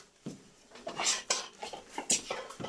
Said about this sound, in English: So now I'm going to drain this.